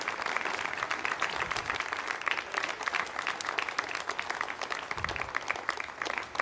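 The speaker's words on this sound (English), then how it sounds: "you can hear the applause" Applause after spacecraft separation of BepiColombo on an Ariane 5 ECA launch, a dense, sustained burst of clapping from a room of people that runs continuously at moderate level.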